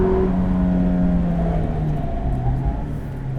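A 2017 Mazda MX-5 Miata RF on a race track, its engine droning loud and steady with tonal whine shifting in pitch as it changes gears near third, continuous close-up cabin roar throughout.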